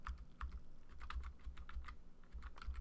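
Arrow keys on a computer keyboard are tapped in a steady run of soft, quick clicks, close and faint, with no one talking.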